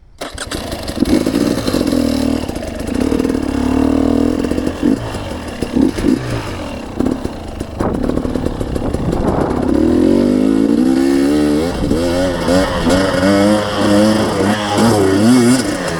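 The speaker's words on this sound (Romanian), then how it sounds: "ce rău mere motorul" A motorcycle engine starts and revs loudly up close, running rough and uneven with sputtering, wavering pitch that climbs and falls over a sustained stretch, with no talking.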